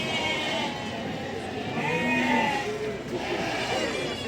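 Sheep bleat at a livestock market in Barda, with several wavering calls rising over a constant crowd murmur and background chatter.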